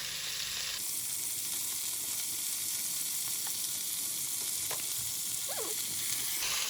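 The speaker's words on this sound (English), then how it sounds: "We'll saute this for about 3 minutes." Brazilian moqueca spices sautéing in a pan, a continuous close hiss and sizzle that holds steady throughout, with a few faint clinks and no talk.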